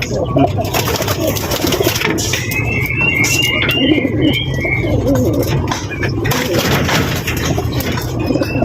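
Racing pigeons coo steadily in a loft, a continuous layered murmur of soft throaty calls with a few higher chirps, close and moderately loud, with voices talking at times.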